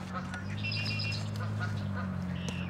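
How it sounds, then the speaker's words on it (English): Gulls being fed by the Ottawa River call in short, bright cries over a steady low engine rumble, fairly close and continuous throughout. "Let us feed those white birds, the gulls."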